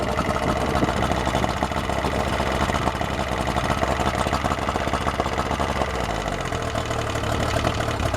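A Yamaha outboard motor idles steadily and fairly loud, a continuous rumbling drone that settles slightly lower near the end.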